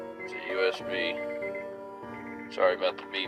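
Electronic tones sound inside a car where an Arctic Air evaporative cooler is being set up, a series of steady pitched beeps and chimes with stacked harmonics, close and clear, with a person talking between them.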